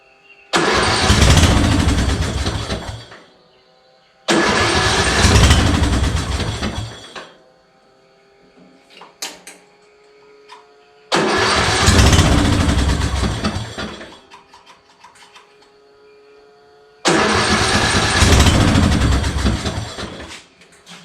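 Yard Machine engine cranking without starting: four long, loud bursts of rough starter churning, each a few seconds, separated by quiet pauses with faint handling noises.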